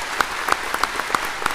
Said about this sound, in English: He asked everyone there to stand and clap for the officers in the room